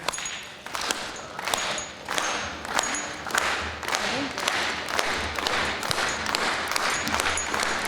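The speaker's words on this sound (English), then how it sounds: "So let's start clapping." An audience at a movie awards show claps in a steady rhythmic beat, loud and close, each clap landing evenly with crowd noise beneath.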